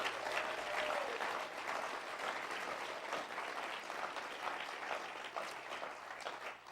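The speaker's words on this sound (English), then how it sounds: "Give yourselves a round of applause." Steady applause from a large seated audience at a motivational speaking event fills the room, dense and continuous at a moderate distance, slowly tapering toward the end.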